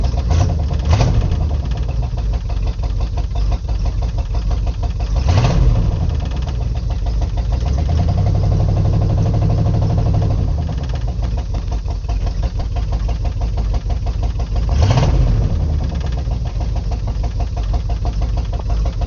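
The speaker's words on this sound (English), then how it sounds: "Straight to idling, we got oil pressure." An abandoned Chevrolet K20 truck's engine idles close and loud with a steady knocking rhythm, occasionally revving up slightly and dropping back to its even idle.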